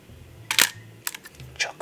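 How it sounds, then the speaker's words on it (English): Leica R4 film camera shutter firing two crisp mechanical clunks close up, each a sharp snap with a brief mirror slap, separated by quiet pauses. "Yeah, it's got a strong, positive shutter sound."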